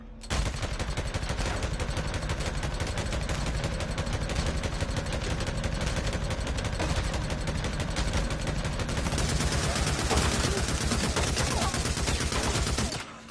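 Sustained automatic fire from a maxed-out MG55 machine gun in the video game Days Gone during a horde fight, a long unbroken rattling stream with engine-like rumble beneath, steady and loud.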